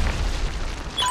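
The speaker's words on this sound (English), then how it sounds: "Friendly Trinity Rocket inbound." Trinity Rocket explosion in Call of Duty: Ghosts, a loud, short, deep rumbling boom filling the whole moment.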